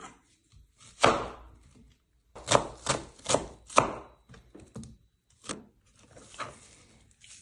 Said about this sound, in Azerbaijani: Soğan bir də əzilir bunun üstündə.